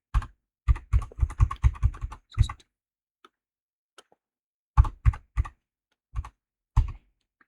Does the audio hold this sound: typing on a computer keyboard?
yes